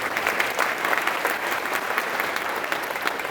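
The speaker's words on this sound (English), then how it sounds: "one more round of applause for these guys" Audience at a business luncheon breaks into sustained applause, a dense, even patter of many hands clapping, fairly close and loud throughout the short span.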